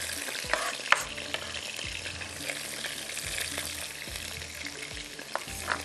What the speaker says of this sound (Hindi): थोड़ा सा गरम मसाला फ्राई हो गया तो आपने प्याज डाल देनी है।